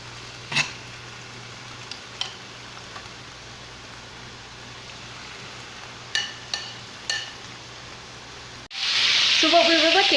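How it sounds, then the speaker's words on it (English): Herbed pork chops hit hot olive oil in a cast iron pan and burst into a loud, steady sizzle after several quiet clicks and taps. "here I have a couple of tablespoons of olive oil in my cast iron frying pan, waiting for that to get piping hot"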